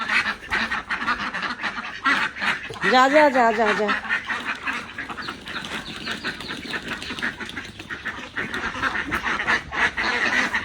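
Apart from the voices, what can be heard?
ducks quacking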